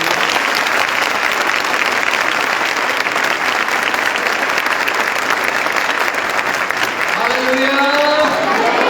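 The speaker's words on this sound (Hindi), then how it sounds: "जरा खुदावंद के लिए जोरदार ताली बजा दें।" A congregation at a revival meeting claps loudly and continuously in a dense, sustained wash of applause, with a voice or music rising over it near the end.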